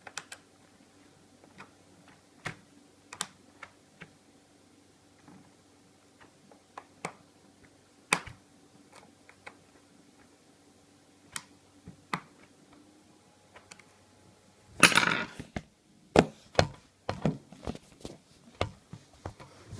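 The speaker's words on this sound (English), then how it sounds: "So now we're going to work on taking off all the screws of the back plate." Screws come out of the back plate of a keyboard being taken apart: scattered small ticks and clicks over a faint steady hum, then a denser burst of clattering handling noise near the end, with no speech.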